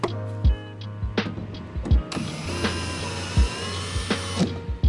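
Power driver whirring in short bursts as a screw is driven into a wall stud while mounting a floating mantel, with intermittent mechanical clunks and brief pauses between runs, fairly close and moderately loud.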